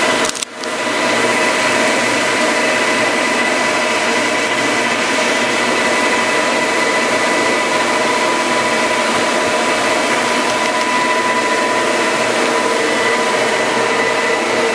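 A Devlieg horizontal boring and milling machine spindle runs at 1200 RPM, giving a steady, close mechanical whine and hum with a constant pitch that holds unbroken from start to finish, with no voices.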